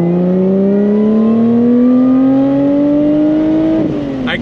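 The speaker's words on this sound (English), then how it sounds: "I'm gonna hear this sound of this engine in my dreams." A Lotus Evora GT's engine revs up in one long, steady climb, loud and close, then eases off near the end with a brief rattle.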